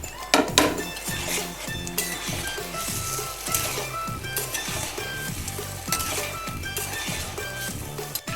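Chicken pieces sizzle in a pan of thickening honey sauce, a steady frying hiss under clinks and scrapes of a utensil stirring against the pan, with background music playing throughout.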